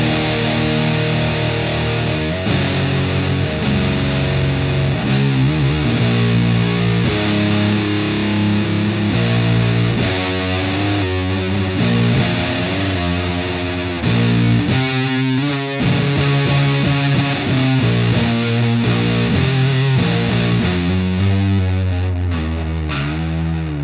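Electric guitar played through a Feedbacker fuzz pedal, giving a thick, heavily distorted tone. Dense saturated chords ring loud and continuous for the whole stretch, alone without talk.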